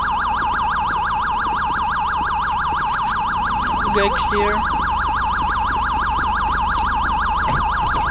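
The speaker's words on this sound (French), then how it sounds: "Je sais, la sirène c'est fatigant." A police car siren in GTA V with the LSPDFR mod wails loud and close in a fast, continuous warble, and a brief spoken voice cuts through partway.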